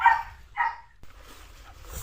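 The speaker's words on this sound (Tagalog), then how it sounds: "Nasubukan ko na po yung aso ni Mama Tinay, magaling po" A dog, a working snake-hunting dog at a rural home, gives two short barks close by, followed by quieter low rustling and background noise.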